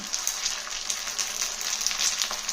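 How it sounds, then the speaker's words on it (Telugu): Steam papad (vadiyalu) fry in hot oil with a bright, steady sizzle and crackle and small popping bursts, continuous and close. "ఇవి చూడండి నూనె బాగా కాగింది అలా వేసి"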